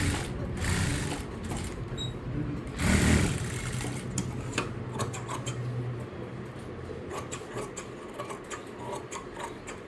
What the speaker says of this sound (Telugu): ఈ విధంగా లైనింగ్ని చుట్టూ స్టిచ్ చేసుకోవాలి.